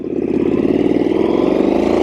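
A Triumph Street Scrambler 900 motorcycle engine revs loudly and steadily up close, a throbbing mid-pitched roar that holds its intensity throughout.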